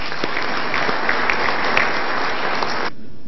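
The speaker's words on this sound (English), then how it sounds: "let's give a round of applause to the government of Djibouti for that" A meeting audience on refugee issues gives a round of applause to the government of Djibouti: a steady, full wash of many hands clapping that stops abruptly just before the end.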